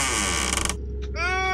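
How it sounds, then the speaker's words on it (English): Creaking hinges in the video game The Survey: a brief, loud, tonal creak that bends in pitch, breaks off, then swings again in a second groaning squeal. "They need to spray some WD-40 on them hinges, bruh"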